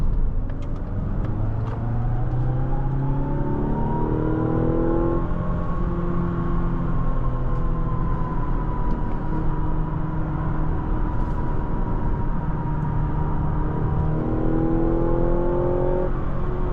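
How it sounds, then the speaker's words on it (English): From inside the cabin, a 2025 Mazda CX-70 PHEV Premium Plus accelerates smoothly with a rising engine whir that climbs in pitch, eases off, and climbs again in a loud, continuous run without talk. "Very nice acceleration. It's very seamless."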